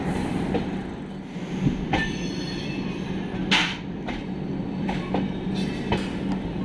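The Kolkata Agra Weekly Express rolling along a line near Kolkata, heard from on board as a steady close rumble with repeated wheel clicks over rail joints and brief squeals.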